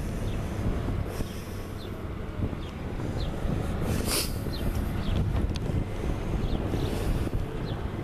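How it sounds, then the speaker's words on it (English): A low, steady boat engine rumble sits beneath heavy wind buffeting the microphone as a boat comes into a lakeside harbor at Fond du Lac, Wisconsin, with an open waterside feel. "Looks like we got a boat coming in right now."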